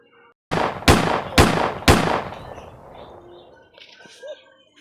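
Three sharp gunshots fired in quick succession on command, loud and close, each with a short echoing tail, followed by a quieter stretch with faint chirps and distant noise.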